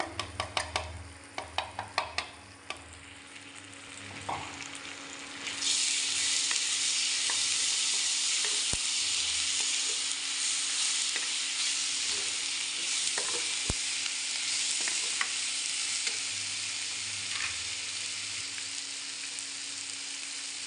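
Tomato and green chili paste for bhindi masala hits hot oil in a pan with a loud, steady sizzle that holds to the end, after a few sharp clinks of utensils at the start.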